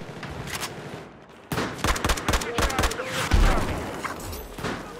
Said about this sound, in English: Oh, what is this weapon? AK-12, is that?